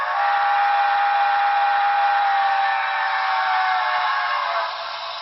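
A Broadway Limited model Pacific steam locomotive sounds a sustained steam whistle, one long steady chord held loud for about five seconds and tapering slightly at the end.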